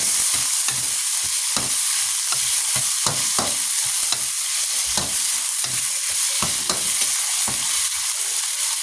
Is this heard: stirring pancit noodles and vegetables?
yes